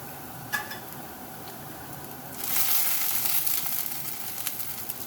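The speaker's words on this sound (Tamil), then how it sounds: "கொஞ்சமாக எண்ணெய் ஊற்றிட்டு" Oil poured into a hot pan while making handmade jaalar parotta: a steady sizzle swells up about halfway through and stays loud and bright, with a light metallic clink near the start and no talking.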